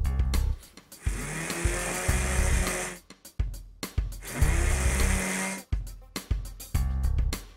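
A small battery-powered toy motor whirs in a series of on-off bursts as its wires are touched to the battery, each run a steady buzzing hum broken by brief gaps and clicks.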